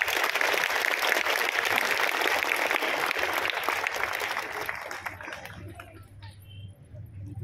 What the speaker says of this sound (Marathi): पुन्हा एकदा या गुणवंत विद्यार्थ्यांसाठी अगदी कडकडून टाळ्या झाल्या पाहिजे